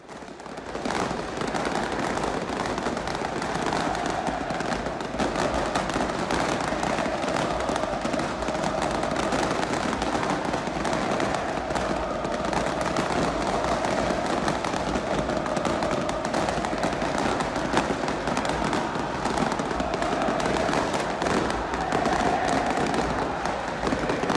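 Dense, continuous crackle and popping of fireworks and firecrackers bursting during a Diwali celebration, loud and sustained with rapid overlapping bangs throughout.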